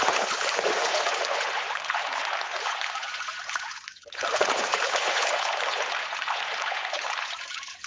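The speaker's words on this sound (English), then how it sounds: "The splashing of water in a pond." AI-generated splashing of water in a pond, a continuous hissy wash of trickling and splattering that dips briefly midway before resuming, moderately loud and alone with no voices.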